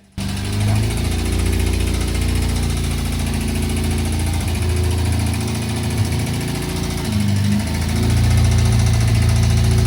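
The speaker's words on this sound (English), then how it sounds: "I know the Escort sounds very ticky" Thirty-year-old Ford Escort engine idling with a steady, loud mechanical drone and a persistent fine ticking from the valvetrain, continuous throughout and heard up close with no talk.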